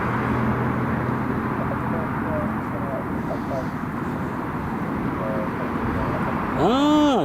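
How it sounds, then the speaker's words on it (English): A Ryanair airliner passes over Newcastle International Airport as a steady, broad engine roar that swells slightly near the end, while people talk nearby. "Ryanair just about to come over as well."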